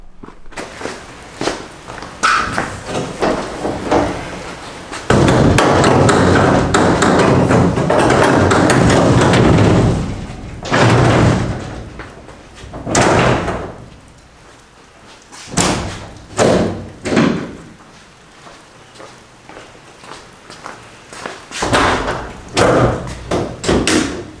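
A fiberglass front clip on a Cummins race truck is lowered and shut, giving heavy thumps and slams followed by scattered knocks and clicks from push-button latches, close and fairly loud with no talking.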